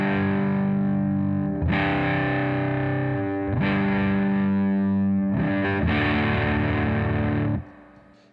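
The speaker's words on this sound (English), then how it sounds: "So that's with the Foxy Tone Box on, and it is a fuzz." Electric guitar played through a Warm Audio Foxy Tone Box fuzz pedal, giving loud, saturated distorted chords in three sustained strums, each ringing out before the next, with the last cut off abruptly near the end.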